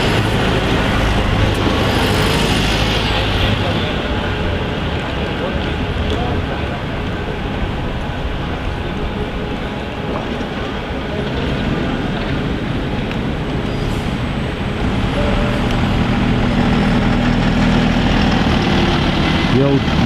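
A Stagecoach bus in Magic Bus livery idles on a Manchester street, its diesel engine giving a steady, close rumble that runs the full length, with road traffic noise around it.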